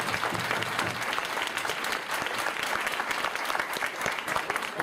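Audience applause at a motivational talk on Ganoderma therapy, steady dense clapping from a crowd filling the whole stretch at even loudness with no speech over it.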